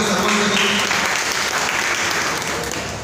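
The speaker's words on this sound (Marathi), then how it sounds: "एकदा जोरदार टाळ्या झाल्या पाहिजे आपल्या स्वप्नासाठी, आपल्या सर्वांसाठी" A large audience breaks into loud, sustained applause, a dense wash of clapping that holds strong throughout and eases slightly toward the end.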